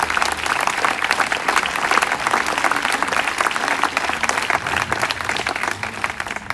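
An audience at a political gathering applauds in tribute to a deceased local activist, a loud, dense and sustained round of clapping lasting several seconds without interruption.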